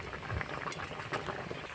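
Mangoes simmer in a pot of water, bubbling with a dense, steady burble and occasional louder pops, close and moderately loud with no talk.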